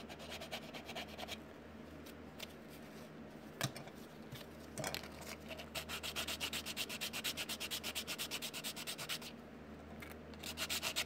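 Sandpaper rubs steadily along the edges of a styrene hard body, chamfering them back in a continuous rasping scrub that speeds into quick rhythmic strokes near the end, close and moderately loud with no talk.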